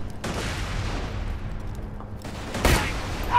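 Two gunshots in the video game Borderlands 2, a loud crack near the start and another about two seconds later, each a short burst over a low steady game background.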